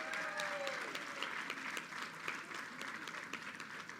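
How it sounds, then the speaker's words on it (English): Applause from the crowd at a reception marking the Kosciuszko Bridge opening, many hands clapping in a dense, even patter that carries on throughout, moderately distant and without talk. "Let's give them a round of applause."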